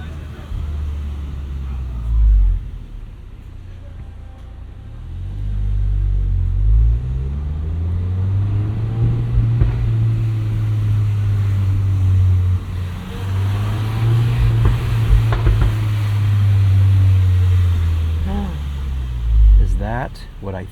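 Engine of a 2024 Volkswagen Golf R MK8 with a six-speed manual, driven at night with rev matching near 15 mph: a steady low drone rising and falling in pitch through several swells, with a voice talking over it.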